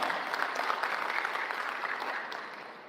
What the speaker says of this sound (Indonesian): Kita tepuk tangan ini, Bapak.